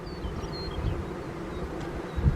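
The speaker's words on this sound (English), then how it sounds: "a large number of male bees, which are called drones" Honeybee drones buzzing around a beehive during a spring hive inspection, a steady low insect hum that holds throughout, with a brief louder buzz near the end as a bee passes close.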